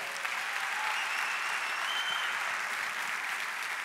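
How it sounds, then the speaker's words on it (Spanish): Steady, dense applause from a church congregation fills the space, an even wash of clapping hands with no individual claps standing out and no speech over it. "Dar un aplauso a Cristo."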